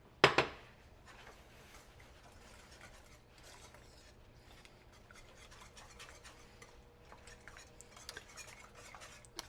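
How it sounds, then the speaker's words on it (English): Egg whites are whisked with oats, a soft continuous scraping stir against the pot, faint and steady after one sharp clink at the start. "you don't stop whisking until you get the consistency you want"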